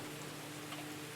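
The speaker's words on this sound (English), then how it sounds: "As the rain has come for the final 2 stages" Rain pouring down on a rally stage in the racing game Dirt Rally 2.0, an even dense hiss of falling water with a faint low hum beneath, steady and close.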